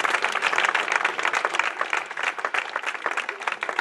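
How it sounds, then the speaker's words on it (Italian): An audience at a lecture breaks into applause, a loud, dense patter of many hands clapping close by, continuous and steady from start to finish. "facciamo anche un applauso"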